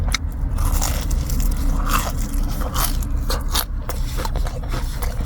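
Loud, close crunching and crackling as someone bites and chews crispy fried chicken while winter camping, the crunches coming in quick irregular bursts without speech.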